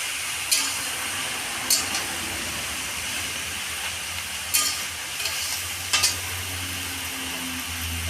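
Greens with salt being stirred in a cooking pot for a hilsa-head taro-leaf dish, with occasional scraping clinks of the utensil against the pot over a faint steady sizzle, near and without talk.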